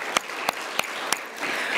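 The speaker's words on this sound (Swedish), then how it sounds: "En applåd." Audience applause at a summer church service: a few sharp, separate claps spaced across the moment, then a softer continuous patter of clapping in the room.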